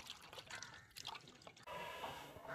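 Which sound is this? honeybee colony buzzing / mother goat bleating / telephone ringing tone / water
water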